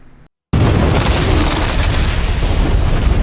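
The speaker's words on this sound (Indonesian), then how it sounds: "meninggalkan pom bensin diikuti ledakan hebat" A sudden, massive gas station explosion bursts in after a moment of near silence, then a loud, sustained roaring rumble fills the space.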